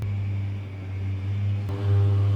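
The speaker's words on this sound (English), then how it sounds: "I think someone's going by with a lawnmower." A low, steady lawnmower hum drones in the background, swelling slightly louder toward the end as it passes by outside.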